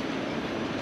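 A train pulls into a station platform, its heavy low rumble and rolling wheel noise filling the air close by at a steady, loud level, with no speech.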